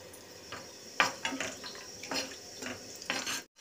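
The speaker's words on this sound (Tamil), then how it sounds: "நெய் சூடாகிட்டு இப்போ அந்த முந்திரி பருப்பை போட்டு பொன்னிறமாக வறுத்து எடுத்துக்கிடுவோம்." Cashew nuts frying in ghee in a pan, with close clinks and scrapes of a utensil stirring against the metal over a faint sizzle, in short irregular bursts.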